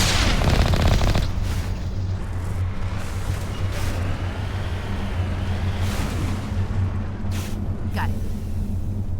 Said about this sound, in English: Okay, who's firing at us?